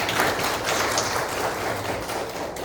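Congregation at a university campus church worship service gives a steady round of applause, dense and sustained clapping from many hands throughout.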